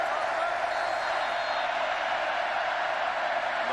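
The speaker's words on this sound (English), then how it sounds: "The crowd rocking." A stadium crowd roars at a 2000 college football game between Oklahoma and Texas A&M near the goal line, a constant, far-off wash of cheering with a commentator's voice running over it.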